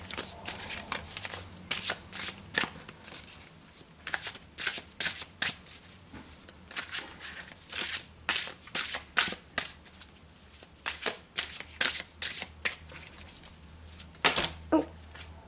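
A deck of tarot cards is shuffled by hand in repeated quick riffling bursts separated by short pauses, crisp and close over a quiet background.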